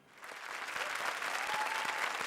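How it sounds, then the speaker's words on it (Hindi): Studio audience on a Hindi TV comedy show bursts into applause, swelling from a soft start into steady, dense clapping that fills the room, with a faint voice briefly audible over it. "तालियां।"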